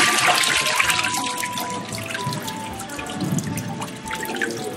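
A papermaking mould is dipped into a vat of water and cotton rag pulp, giving steady sloshing and dripping water with trickles throughout, close and fairly loud.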